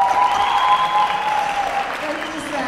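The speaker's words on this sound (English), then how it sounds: "Let's give her a round of applause." Audience applause at a singing prize ceremony, a sustained wash of clapping under a speaker's voice that carries on throughout.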